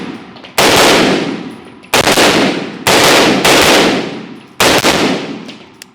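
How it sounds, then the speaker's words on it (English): A B&T pistol-caliber carbine fired without a suppressor lets off four loud, sharp shots at roughly even spacing, each blast ringing out and decaying before the next. "Let's go shoot it without can"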